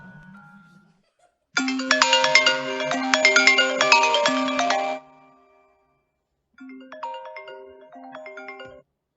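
A telephone rings in a doctor's office on a winter afternoon, a bright electronic ringtone in two bursts separated by a pause, with brief talking at the start.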